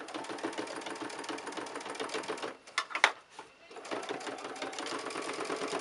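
A sewing machine runs in steady rapid bursts while stitching straps onto a quilted, fully lined tote bag, pausing briefly midway before resuming its fast mechanical chatter.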